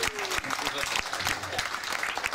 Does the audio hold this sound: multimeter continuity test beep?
no